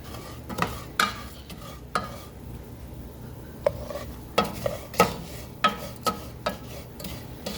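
Noodles for sopa de fideo browning and being stirred in a pan, with a faint sizzle under repeated scrapes and taps of a utensil against the pan, close and fairly quiet with no talk.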